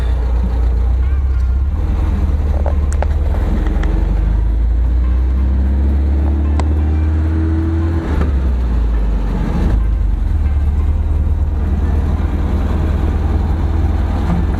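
A 1974.5 MG MGB with an inline fuel pump drives at night, its engine a loud, steady low rumble throughout, with a faint voice partly under the noise.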